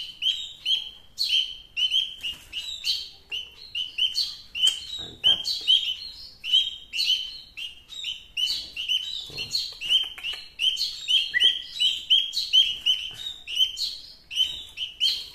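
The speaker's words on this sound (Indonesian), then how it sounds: "jadi yang bawah itu burung emprit tuh" Small emprit munia birds chirp busily around a hanging nest, with a dense, steady run of high, quick tweets and calls going on throughout without pause.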